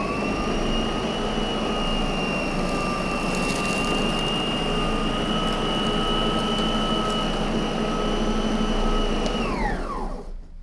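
A Lindhaus LS38 commercial vacuum cleaner runs on soft home carpet, giving a loud, steady motor whine with a high tonal hum that holds constant, then winds down sharply at the end; no voices.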